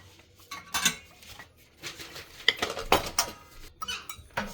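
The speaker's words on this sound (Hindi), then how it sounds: "ये सब्ज़ी बनाई थी आज मैंने सुबह मिक्स वेज की, थोड़ी सी रह गई है, इसे भी मैं एक बर्तन में डाल देती हूँ।" Leftover mixed vegetable curry is scooped into a pot in a home kitchen, giving a series of uneven metallic clinks and scrapes of spoon against cookware, close and fairly loud, with no talking.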